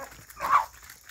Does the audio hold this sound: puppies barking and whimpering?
yes